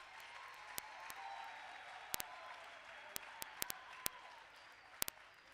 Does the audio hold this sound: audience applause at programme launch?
yes